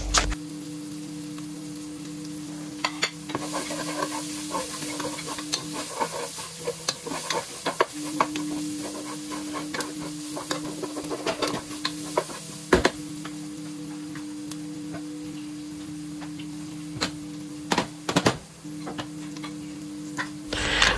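Garlic and onion sautéing in a pan for beef kaldereta, a steady close sizzle with scattered ticks and scrapes of stirring throughout, no talking.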